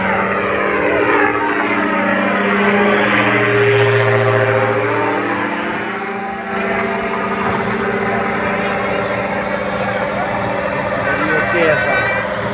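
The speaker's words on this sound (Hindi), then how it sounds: "ग्लाइडर और पैसेंजर लैंड कर रहा है जी दोबारा से अल्हम्दुलिल्लाह। और ये इस रनवे पे आएगा" A paraglider lands on the runway at a paragliding show in Faisalabad. A loud, near propeller engine drones throughout, its pitch sweeping up and down as it passes, with voices faintly underneath.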